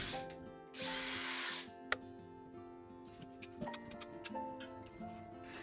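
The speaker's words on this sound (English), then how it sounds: "So let's drill a pilot hole here." A power drill whirs in one short burst about a second long, drilling a pilot hole into a bathroom wall, followed by a sharp click and scattered light tapping in a quiet room.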